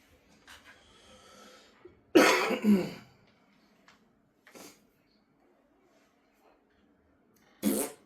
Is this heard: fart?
yes